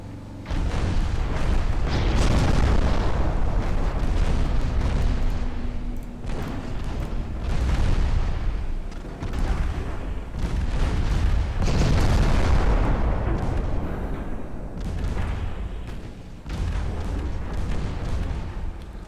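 Heavy naval ship cannon fire in a video game, with deep rumbling booms that roll together into a loud, continuous barrage and ease off only briefly between volleys.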